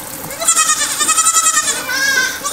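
A Nigerian Dwarf goat bleats loudly and close by in a long, wavering, nasal cry that trails off, followed by a second shorter bleat.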